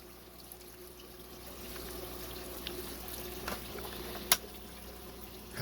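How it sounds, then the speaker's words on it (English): Water trickling and spilling out of the side of a tilted Sunsun canister filter, a quiet continuous gurgling flow with a few small splashes and one sharp click near the end. "water is just pouring out of here, and I don't know where it's coming from"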